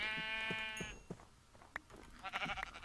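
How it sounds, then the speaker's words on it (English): A sheep in Feed The Beast, a modded Minecraft pack, gives a clear wavering bleat close by, followed by a few quieter bleats and small game sounds. "Hey, hey, sheep."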